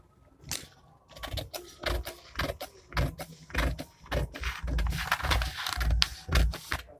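Scissors cutting a paper pattern for a size-40 princess-cut blouse, a fairly loud, close series of uneven snips and clicks that thickens into denser crunching toward the end.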